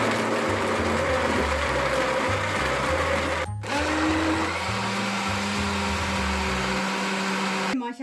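A kitchen blender whirs loudly and continuously, mixing iced coffee. Its motor pitch shifts slightly partway through, and it cuts out briefly near the middle before running on to the end.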